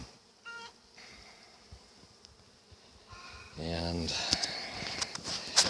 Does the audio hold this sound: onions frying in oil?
no